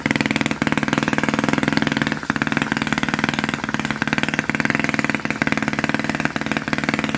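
An OKMO 185 3cc micro scale model of a British Enfield stationary gas generator engine runs slowly and steadily, giving a loud, close, rapid buzzing putter with a few slight hitches.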